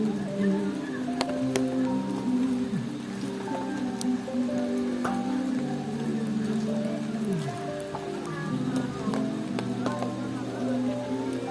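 Rain patters and drips on an Altrek Eclipta Black Series camping tent on Mount Patuha. The soft, steady, irregular tapping continues while faint voices and other tones sound in the background.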